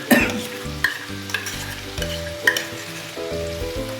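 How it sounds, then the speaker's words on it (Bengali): Garlic paste frying in a pan for a traditional Bengali magur fish dish, with a soft continuous sizzle and several sharp scrape-and-stir clicks from a utensil, close and without talking. "এইবার আমি রসুনটা দিচ্ছি দেখো খুব কমই দিলাম"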